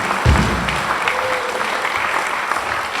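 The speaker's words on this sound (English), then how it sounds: "Please, a huge round of applause to Bill for the amazing food." An audience at an album launch dinner applauds the chef, a dense, even wash of clapping with a low thump at the start and faint room murmur.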